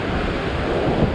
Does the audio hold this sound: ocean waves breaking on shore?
yes